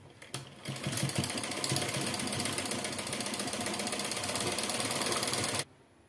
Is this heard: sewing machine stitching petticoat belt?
yes